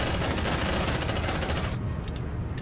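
A sentry gun in the sci-fi game Aliens: Dark Descent fires rapid automatic bursts, loud and close, then cuts off abruptly, leaving a few faint clicks.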